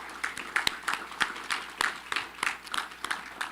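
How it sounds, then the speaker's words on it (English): Scattered, fairly quiet applause from guests at a community fundraising awards dinner, irregular claps spread steadily across the short stretch with no voices over it. "And let's give one last round of applause to all of our recipients and"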